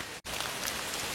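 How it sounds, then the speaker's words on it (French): Steady rain falls outdoors near old bunkers, a dense, even hiss of drops striking surfaces that runs close and loud throughout, broken only by a split-second gap, with no voices. "la pluie s'est un peu calmée"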